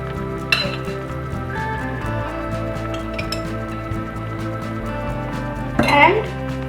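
Pasta sauce and full cream milk are stirred in a cooking pan, a spoon scraping and clinking against the metal over a steady low simmer, with a louder clatter near the end and a voice speaking at times.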